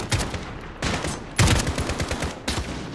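Gunfire in the Call of Duty: Modern Warfare video game, several loud bursts of rapid shots arriving in quick clusters, close and sharp with no speech.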